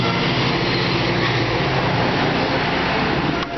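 Loud, continuous rumbling roar of a passing train in San Francisco, broad and heavy throughout, easing slightly at the very end.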